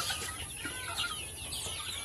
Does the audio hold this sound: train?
no